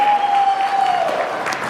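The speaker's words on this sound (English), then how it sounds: "Keep the applause going." An audience claps steadily at a ten-year anniversary ceremony, a dense mid-level wash of applause, with a sustained tone fading out over the first second.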